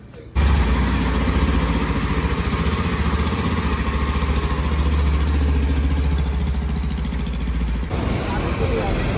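Jawa motorcycles on a group ride starting up and setting off, several engines thrumming and idling together close by in a steady low rumble that cuts in abruptly and runs on with a mechanical clatter.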